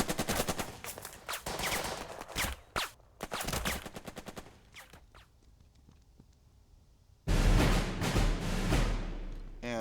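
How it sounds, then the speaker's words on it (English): Machine gun bursts in the Burden of Command video game, rapid repeated gunfire in several loud volleys with a brief quieter gap, then another heavy burst, no talk. "We'll have this machine gun just pound this objective."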